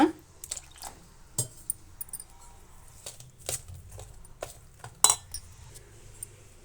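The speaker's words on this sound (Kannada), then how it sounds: "ಈಗ ಇಷ್ಟನ್ನು ಸ್ವಲ್ಪ ನೀರನ್ನು ಸೇರಿಸಿ ನಾವು ಮಿಕ್ಸ್ ಮಾಡಿಟ್ಬಿಡೋಣ." A spoon clinks and scrapes in a bowl while semolina batter is mixed with water, giving scattered soft taps and a few wet squishes in a quiet kitchen.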